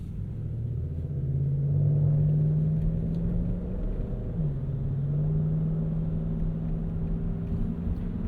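Hemi-powered Ram pickup cruising with a steady low engine drone and road hum from Goodyear Wrangler tires, a continuous close rumble with slight pitch rises.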